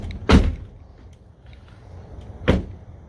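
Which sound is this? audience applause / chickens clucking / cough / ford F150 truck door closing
ford F150 truck door closing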